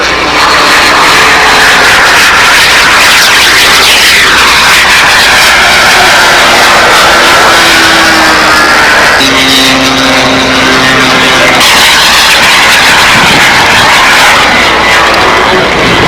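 A radio-controlled scale Spitfire model airplane's engine drones loudly and continuously at a windy RC scale competition, its pitch rising and falling as it flies past.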